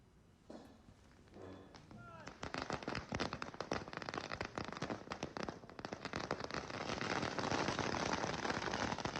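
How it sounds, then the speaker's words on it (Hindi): Firecrackers set off by locals celebrating in Sukma district, Chhattisgarh, a rapid dense crackle of many pops building to a steady loud barrage after a few scattered bangs at the start. "लोगों ने जमकर आतिशबाजी कर अपनी खुशी का इजहार किया।"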